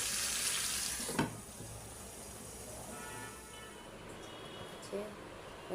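Fish fries in a pan on the stove, a soft, fairly quiet sizzle with a clatter near the start as the pan is covered and a few faint clinks later.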